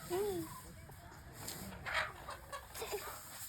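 A country chicken (nati koli) in a village yard gives a few soft, rising clucks early on. Faint murmured voices and scattered rustles sit under and after the clucks, all quiet and somewhat distant.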